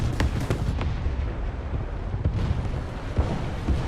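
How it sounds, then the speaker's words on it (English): Artillery shells slam into the ground in the War Thunder tank game, throwing up dirt and fire: a dense run of booming, crackling impacts with repeated sharp hits over a constant rumbling background, with no voices. "A little bit of artillery hits and starts throwing up a bunch of dirt and fire"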